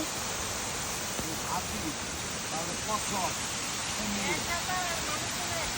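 Steady, dense rain pours across an open zoo in Italy, a constant wash of noise with faint voices and bird-like chirps faintly underneath.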